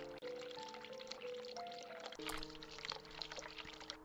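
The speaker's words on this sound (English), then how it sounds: "Let's turn cold water on." A sink tap runs in The Cat Lady, a steady pouring stream of water heard fairly faint and continuous, with a sustained tonal hum layered underneath and a small shift partway through.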